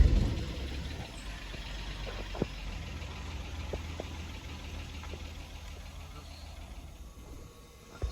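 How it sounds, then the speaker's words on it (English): A 1993 Ford XG Falcon police panel van engine idles roughly with a severe misfire, a steady low rumble with faint knocks and ticks throughout, ending in a small bump. "Start the car."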